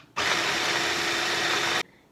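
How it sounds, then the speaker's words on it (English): A food processor whirs steadily for about a second and a half, blending crispy pork into a chicharrones paste. The motor sound is loud and continuous, starting and stopping abruptly. "I'm going to take our crispy pork and I'm going to blend it up."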